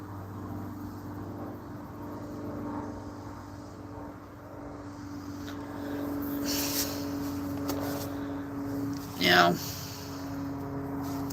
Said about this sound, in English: And there's another airplane again.